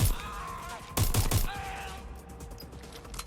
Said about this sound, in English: I'm taking fire! They won't stop!